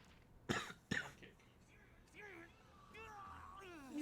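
Two sharp coughs close together ring out near the start, followed by a person speaking quietly.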